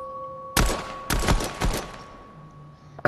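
Gunshots in the Fortnite horror map Alverton Hills: Livingston, a loud video-game volley in three sharp bursts with a rapid, fusillade-like rattle and ringing decay, and a brief tone over a quiet stretch toward the end.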